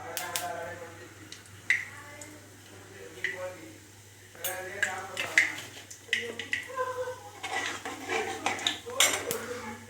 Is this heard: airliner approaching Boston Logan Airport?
no